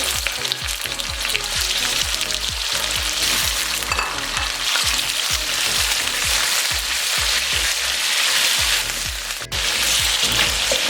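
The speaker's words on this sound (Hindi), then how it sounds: "अब इसमें चिकन ऐड करेंगे और 2 से 3 मिनट के लिए इसको हम फ्राई कर लेंगे।" Loud, continuous sizzling of chicken frying in a hot pan for pulao, with repeated scraping and stirring thumps throughout.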